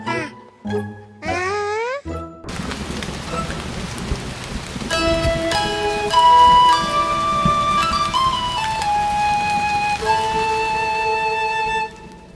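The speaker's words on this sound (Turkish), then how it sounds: "Maşallah, yağmur hiç durmadı." Steady rain falls in an animated children's cartoon, a continuous hiss of drops that begins abruptly after a few short cartoon sound effects and continues under a light musical melody.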